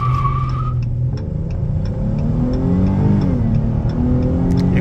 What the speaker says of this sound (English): press brake and full throttle